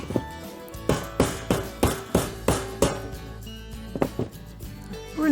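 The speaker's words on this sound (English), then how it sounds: "I just get my hammer." Hammer blows strike a bent metal part from a Charnwood stove being assembled: a steady series of about seven sharp, ringing metallic hits close by, followed by a few lighter taps and clanks.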